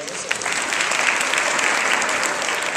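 An audience applauds artist Jim DiBartolo at a New York Public Library teen press conference, steady dense clapping that fills the room from start to finish with no break.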